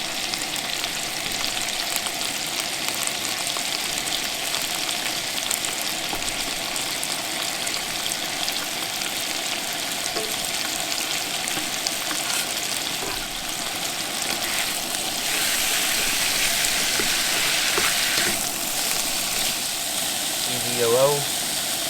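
Mushrooms fry in a pan at a campsite, giving a steady, close sizzle and crackle that runs throughout and grows louder partway through, with some brief voice near the end.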